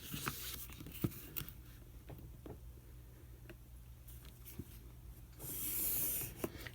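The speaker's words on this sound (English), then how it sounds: "I'm going to draw a line." Pencil drawing a line across paper during a craft project, soft intermittent scratchy rubbing strokes close up, quiet, with a brief louder brushing rustle near the end and no talk.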